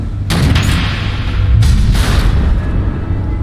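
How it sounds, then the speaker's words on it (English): Missile explosions in the Batman: The Enemy Within video game, two loud booming blasts with rumbling tails, the second following roughly a second after the first, over a continuous low roar. "The missiles."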